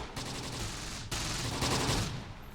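Gunfire rattles in the WWII tactical video game Close Combat: The Bloody First, set in the Italian hills, as a continuous dense burst of shots with a sharp break partway through.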